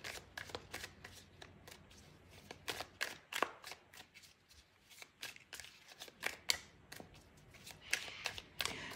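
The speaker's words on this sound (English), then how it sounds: "So as I was shuffling then" Tarot cards are shuffled in a rapid series of crisp riffling slaps and flicks, close and fairly quiet, with brief pauses between bursts and no talking.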